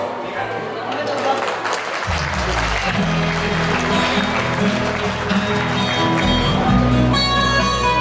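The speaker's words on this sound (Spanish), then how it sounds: "Y vamos a dar un fuerte aplauso a ellos." Wedding guests in Coacoyula, Guerrero applaud the newlyweds as a melody plays, steady clapping running throughout alongside sustained music with a voice over it.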